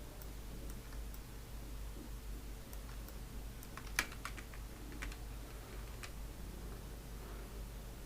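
Typing on a computer keyboard while working in a Windows design program, a quiet, steady stream of soft key clicks with a few sharper taps, alone against a low background hum.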